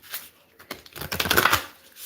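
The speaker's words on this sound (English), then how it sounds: "And then I have to shuffle for a long time." A deck of cards is shuffled up close for a couple of seconds, a dense rapid riffling patter that swells in the middle and then fades out, with nobody talking.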